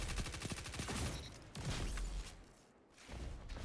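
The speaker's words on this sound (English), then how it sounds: "Oh, he has a machine gun." Machine gun fire in Destiny 2's Iron Banner multiplayer mode rattles out in rapid bursts, loud and close, followed by a brief quieter gap and then more heavy firing.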